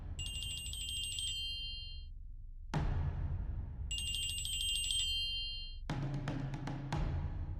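A phone rings in two bursts of electronic trilling tones, each followed by quieter stretches. Soft chimes and clatter fill the gaps.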